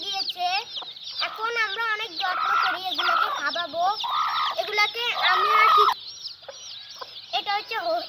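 A group of young chicks peep continuously in shrill, rapid overlapping chirps, close and fairly loud, with brief pauses between bursts.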